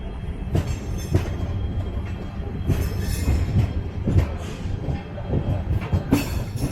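Venad Express 16301 rolling into Ernakulam Junction past the diesel loco shed, close rumbling wheels with repeated clicks and clanks over rail joints and brief metallic squeals, loud and unbroken.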